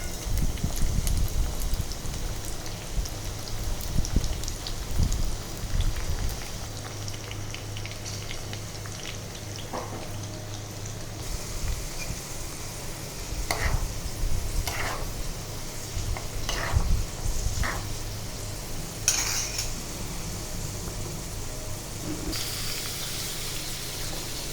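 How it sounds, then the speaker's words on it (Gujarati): Chopped ivy gourd (tindora) sizzles steadily in hot oil in a pan, a constant crackling hiss with a few sharper pops, heard alone and fairly close. "હવે આપણે તેને ગરમ તેલમાં ફ્રાય કરીશું."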